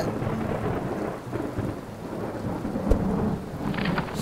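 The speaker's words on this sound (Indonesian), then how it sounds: "hujan belum juga berhenti" Steady rain falling on surfaces with a deep rumble of thunder, close and continuous, and no voices.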